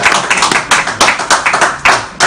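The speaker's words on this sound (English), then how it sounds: "So you guys not gonna clap?" A small group of people claps at a television talk show, the claps close, loud and somewhat irregular, in short uneven bursts for a couple of seconds.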